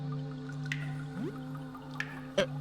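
Water dripping from a pipe in the game Look Outside, a few sparse, close drips landing irregularly over a low hum of background music.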